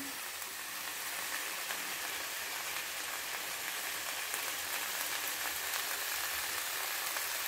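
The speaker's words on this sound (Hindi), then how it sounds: "इसको फ्राई करते हुए मुझे 5 मिनट हो गए हैं।" Vegetables for chicken chow mein frying in a pan, a steady, dense hiss and crackle of sizzling oil that holds level throughout with no talking over it.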